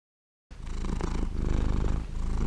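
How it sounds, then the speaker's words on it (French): A cat purrs close and loud, a continuous rhythmic rumble with pulsing beats that starts abruptly after a brief silence and carries on without any talk. "c'est le ronronnement du chat"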